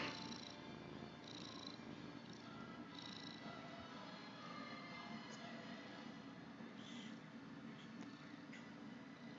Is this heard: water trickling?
no